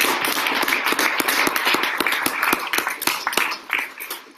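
An audience at a fellows' celebration applauds with steady, dense clapping, close and lively, thinning slightly near the end.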